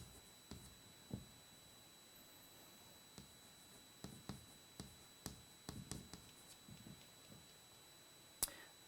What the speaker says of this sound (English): I actually like to draw on this chalkboard a lot.